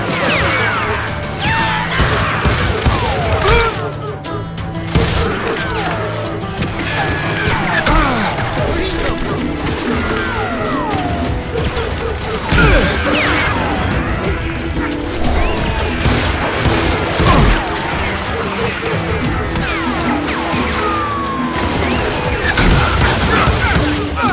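Gunfire in the video game Call of Juarez: Gunslinger, a dense, loud, continuous barrage of shots, impacts and clattering mechanical sounds over a game music bed, with occasional voices mixed in.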